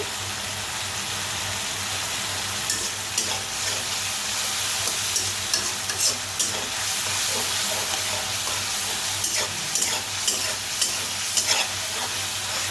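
Masala for shorputi fish curry sautéing in a pan with a steady close sizzle, while scattered soft spatula scrapes and taps recur throughout.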